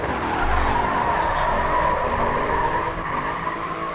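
Car drifting in the racing video game Grid 2, with a steady, loud tire squeal and skid over a continuous engine roar that runs unbroken through the whole stretch, with no voices.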